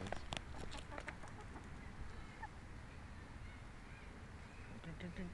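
Chickens walking loose in a street cluck in quick bursts near the start and again toward the end, with quieter ambient street noise between, faint overall.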